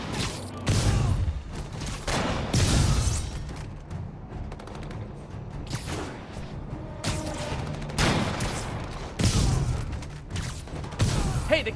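Sniper gunfire from Marvel's Spider-Man Remastered rings out in loud, sharp repeated shots and booms over about twelve seconds, with mechanical clatter between the blasts and no speech.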